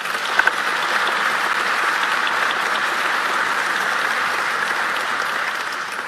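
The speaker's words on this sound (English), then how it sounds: "please give them a round of applause" Steady, sustained applause from a large audience, dense and even clapping filling several seconds without a break.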